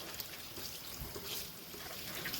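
Tap water runs steadily over fresh tomatoes being washed for canning, a soft continuous trickle and splash at close range with no talking.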